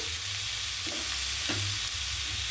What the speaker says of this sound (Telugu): ఇలా ఫ్రై అయిన తర్వాత ఒక క్యారెట్ తురుము